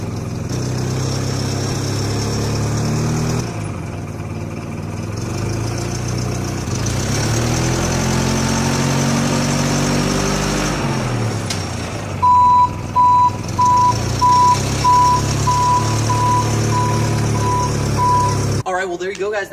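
A standard forklift idles and then drives forward, its engine running steadily throughout, with a loud reversing-style warning beep pulsing in the second half.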